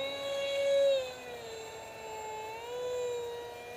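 An RC Powers F18 v3 model jet in high alpha hover gives off a steady electric whine that rises and falls in pitch as the throttle changes, fairly close and continuous.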